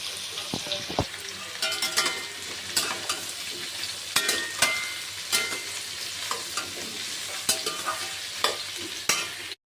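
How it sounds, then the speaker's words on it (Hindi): Jackfruit pieces fry in hot oil in a wok, crackling and sizzling continuously while a spatula scrapes and stirs in repeated sharp strokes close by. "चलिए अब कटहल को भूंज लेते हैं।"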